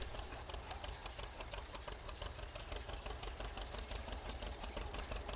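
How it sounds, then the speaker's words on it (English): A tractor engine strains under heavy load in a farming video game on the Springhill Valley map, a loud, steady mechanical drone with a fast, even pulse that runs without a break and no voices. "This tractor acts like it's pulling hard."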